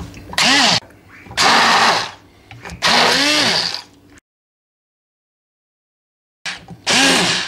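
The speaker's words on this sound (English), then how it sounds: "I think I'll use the stick blender. I'm just going to blend this." A stick blender whirs in loud bursts blending strawberries and guava, revving up and down, pausing briefly between runs before starting again.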